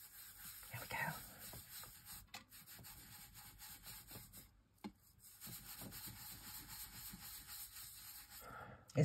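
Paste is spread over a stencil in a mixed-media craft piece, giving a faint, close scraping and rubbing that comes in uneven strokes.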